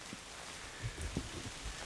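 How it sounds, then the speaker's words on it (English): Rain falls steadily near a field at the edge of woodland, a soft broadband patter with a few heavier nearby drops and thuds, heard alone without voices. "I've just had to take shelter. It was forecast to rain today"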